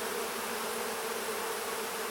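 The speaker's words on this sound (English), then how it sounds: "Now I'm hearing piping sounds" Honey bees hum densely inside a beehive, a steady close buzzing with a faint sustained piping tone threaded through it, continuous and even throughout.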